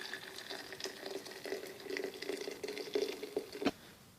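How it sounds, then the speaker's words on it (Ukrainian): Boiling water poured from a kettle over dried herbs for herbal tea, a soft steady trickle and splash with small drips, fairly quiet and close. "та заливаю кипятком."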